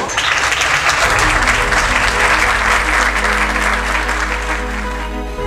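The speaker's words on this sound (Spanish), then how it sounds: "Un aplauso por todo lo que estamos" Audience applause at the Xtasea inauguration in Acapulco, Guerrero: dense, loud clapping from a large crowd, continuous throughout and tapering slightly near the end, over a low hum.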